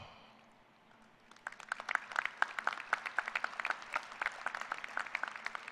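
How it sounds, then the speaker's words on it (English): Applause from a graduating audience at a fall university commencement for business administration, starting faintly and swelling into steady, dense clapping from a large crowd in a hall. "please give yourselves a round of applause"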